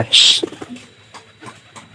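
A pigeon coos near a loft in a brief clip. A sharp, bright burst comes first, then a few low, soft calls fade against quiet background noise.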